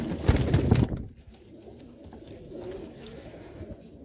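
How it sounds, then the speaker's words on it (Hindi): Teddy golden and dub pigeons coo in a loft, a few deep throaty coos clustered at the start, close and fairly loud, then dying away into faint low ambient rustle with no one talking. "ये सारे टैडी गोल्डन और डब वाले कबूतर है भाई"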